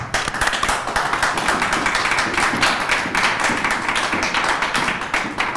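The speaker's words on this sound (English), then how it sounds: "Please join me in a warm round of applause for the entire team that put this event together" Audience at a school commencement breaking into a warm round of applause, dense steady clapping from many hands filling the room, loud and sustained throughout.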